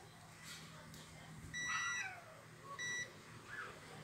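A multimeter on its continuity setting gives short, thin electronic beeps while its probes touch a broken ceiling fan's power wire, two brief tones close by over a quiet room hum.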